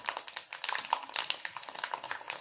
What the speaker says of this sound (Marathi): आता आपण याच्यामध्ये पॉपकॉर्न तळून घेणार आहोत